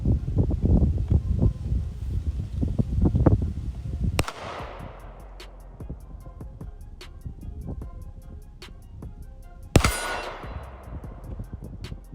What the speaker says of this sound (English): Let's do some more shooting with this PSA Dagger.